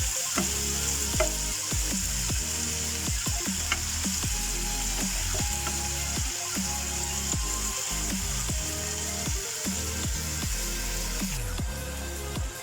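Prawns frying in butter and garlic in a pan, a continuous close hissing sizzle with regular scraping and stirring strokes throughout, no talking.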